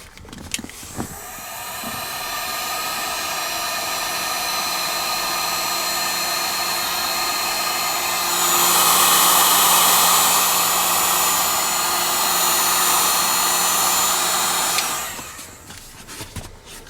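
A heat gun shrinks heat-shrink tubing over wiring during a ham radio install in a 2019 Chevy Volt. Its loud, steady blower roar runs for about fourteen seconds, swells briefly midway, then cuts off.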